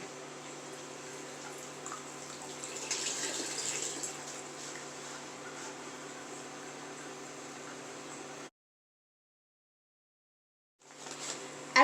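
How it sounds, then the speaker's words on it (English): Wort draining steadily from a bag of mash grains in a brew-in-a-bag setup for a two-gallon cream ale, a continuous watery trickle that stops abruptly, then resumes briefly near the end. "We're going to drain our grains so that we can get ready for our bowl."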